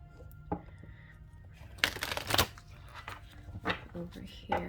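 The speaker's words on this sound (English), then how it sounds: "Give us a good shuffle." A deck of tarot cards is shuffled by hand in a quiet room, with soft papery riffles and a couple of louder flicking bursts, then light handling sounds.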